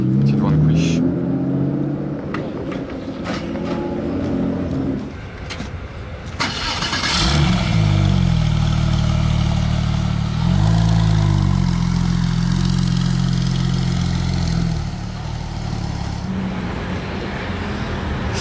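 A Porsche GT2 fitted with an Akrapovic exhaust approaches and passes on a street, its engine swelling into a loud, deep roar before fading, while people talk nearby.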